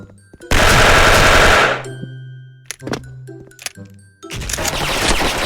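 Platinum FAMAS 2nd Gen rifle in the online shooter Special Force firing a loud sustained burst, then a few scattered single shots and clinks, and another long burst near the end.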